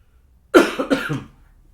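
A single loud, close cough bursts out, then fades into silence.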